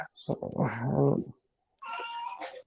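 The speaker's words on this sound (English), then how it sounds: "I hear the kitty back there." Albert, a fat pet cat, gives a drawn-out, wavering meow nearby. After a brief silence a softer second cry follows, along with some faint clicking.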